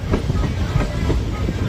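Passenger train 59228 from Bhavnagar to Surendranagar pulling into Wadhwan City, its wheels clattering over rail joints in a steady, rhythmic clickety-clack under a loud, close rumble.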